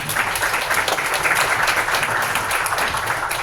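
An audience at a tech demo night breaks into a round of applause, a dense, continuous clatter of many hands clapping at even loudness from start to finish.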